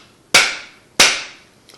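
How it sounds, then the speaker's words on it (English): Two sharp rubber mallet taps land on a Ruger Mark III 22/45 pistol part about two-thirds of a second apart, each a crisp close impact with a short ringing decay, followed by a faint light tap at the end. "with the rubber mallet, I found that giving it extra taps to make sure it's extra seated has never hurt anything"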